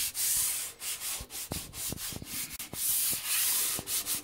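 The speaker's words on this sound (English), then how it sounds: "And all I do is gently sand the surface," Gentle hand sanding of a varnished marine plywood surface with a sanding block, a steady close rubbing swish broken by short strokes, with no talk.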